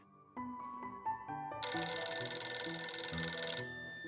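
A phone rings indoors with a tonal electronic ringtone melody that grows fuller and brighter partway through, sustained and clear with no voices over it.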